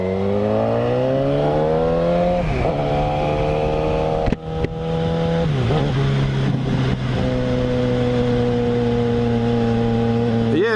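A Yamaha FZ6R motorcycle engine runs steadily and close up during a ride, its pitch climbing through the gears with brief dips at each shift, loud and continuous throughout.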